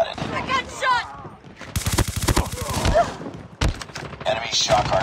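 Rapid bursts of automatic gunfire from a Type-25 assault rifle in a multiplayer shooter game, a dense volley of sharp cracks mid-clip and another loud shot later, with in-game voice callouts throughout.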